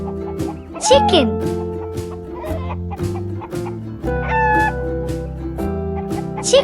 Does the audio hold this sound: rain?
no